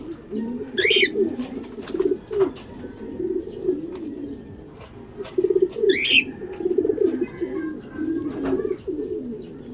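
Racing pigeons coo repeatedly at their loft after landing, with low, throaty rolling calls in uneven bursts through the whole stretch, plus a couple of brighter chirps and faint wing flutters nearby.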